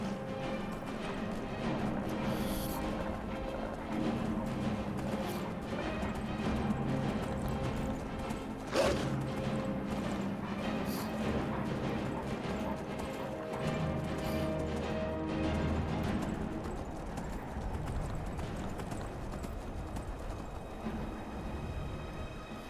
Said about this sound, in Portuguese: Na verdade, volta e vai 7 cavalos aqui, né?